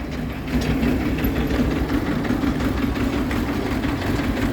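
A mini tractor engine runs steadily at idle, a low, even chugging drone that holds throughout with no voices.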